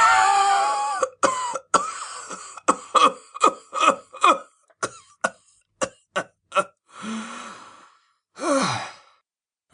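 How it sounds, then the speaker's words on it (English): A big man's horrible rasping cough, staged as an audiobook effect: a long wheezing breath, then a rapid series of harsh hacking coughs, close and loud, ending in a strained gasp. "A horrible rasping cough shook his big body and brought a sweat to his brow."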